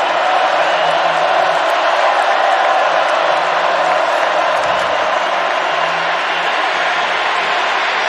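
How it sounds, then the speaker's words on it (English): Crowd at a college football stadium game between Wake Forest and Clemson, a loud, sustained roar of cheering voices filling the whole stretch evenly, distant and washing together with no pauses. "Crowd is in it."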